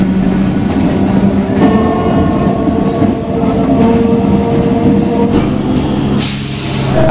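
A delayed local train bound for Digha pulls out of Tikiapara, a loud rumbling run of wheels on rails with drawn-out metallic squeals rising and cutting in near the end.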